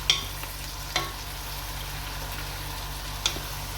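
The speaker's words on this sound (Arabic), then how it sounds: "خليهم يتقلاو بالكدا حتى لين يذبال البصل والفلفل." Onion, pepper and garlic fry in a pan with a steady, fairly soft sizzle, broken by a few sharp utensil clicks as they are stirred.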